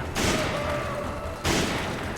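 Two bursts of rapid gunfire in the video game Resident Evil 5, sustained and dense, separated by a brief pause.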